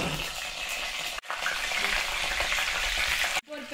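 Brinjal (eggplant) pieces frying in hot oil and being stirred, a loud close sizzle broken by two brief pauses, with scraping stir sounds running through the frying.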